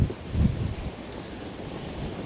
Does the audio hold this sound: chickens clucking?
no